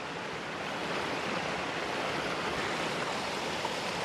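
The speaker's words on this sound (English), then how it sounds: "it's hitting a bunch of rocks and then cascading down from that to yet another waterfall" Waterfall cascading over rocks in bubbling layers, dropping into another fall below; a steady, dense, close roar of rushing water with no voices.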